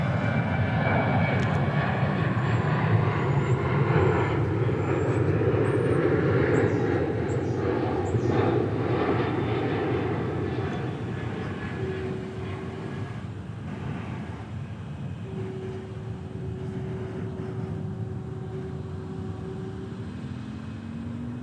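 An Eva Air airliner at DFW airport gives a loud, broad jet roar that slowly fades over about twenty seconds, with a steady whine lingering near the end and faint background chirps.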